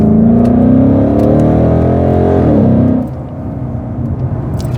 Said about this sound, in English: So we're listening to that growl from the exhaust.